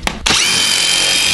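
A power tool starts with two short bursts, then whines continuously at high speed, loud and close, while working on a Tesla headlight.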